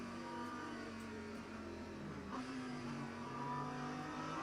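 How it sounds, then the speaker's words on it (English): In a racing video game, an LMP2 prototype race car drives at Fuji, its engine droning and rising in pitch as it passes, fairly faint behind the steady hum of the field. "That does sound like an LMP2, and that is an LMP2."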